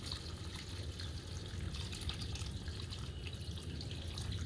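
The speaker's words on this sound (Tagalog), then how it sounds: "So nagdagan natin ng tubig" Water is poured into a pot of sardines and udon-style noodles, a steady, fairly loud splashing and trickling stream running without a break.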